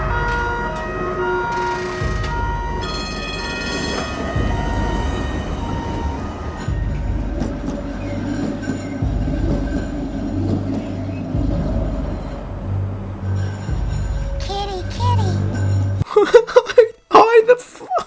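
A train rumbles in a scene from the 2016 film Prey, a steady low rolling clatter with rhythmic rail thumps, ending in a brief burst of sharp noises and voices.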